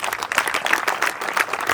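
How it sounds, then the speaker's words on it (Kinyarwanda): A crowd at a celebration bursts into applause, dense overlapping clapping with an uneven rhythm, loud and close for the whole moment. "mumumpera amashyi uyu mugabo."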